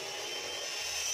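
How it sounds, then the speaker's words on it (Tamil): Scissors cut through fabric for a boat neck blouse with one short, steady, close snipping and sliding sound and no voice over it. "இதை நம்ம கட் பண்ண போகிறோம்."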